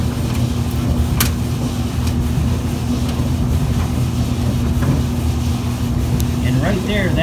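A Whirlpool gas dryer with its burner lit and heating, a loud steady low rumbling roar with a constant hum, close and continuous from start to end.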